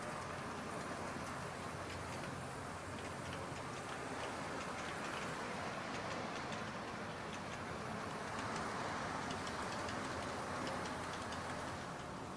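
A model train, the Polar Bear, runs along a layout crossing a bridge, giving a steady, faint rolling rumble with quick repeating clicks of wheels over the track joints.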